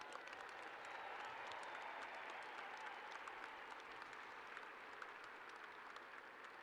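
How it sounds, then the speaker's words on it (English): Audience at a Memorial Day ceremony breaking into sustained applause, a steady, fairly distant wash of many hands clapping throughout. "Let's give them a big round of applause."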